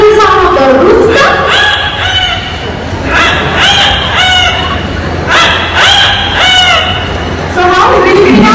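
A parrot at Bird Paradise in Singapore imitates a rooster's crow, repeating several loud, near, drawn-out crowing calls. A person talks briefly between the calls.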